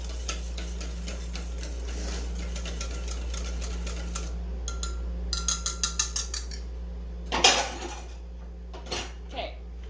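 Melted butter gets whisked into donut batter in a bowl, making a run of quick, rhythmic clinks and taps of utensil against the dish, with sharper scraping knocks toward the end and no talking.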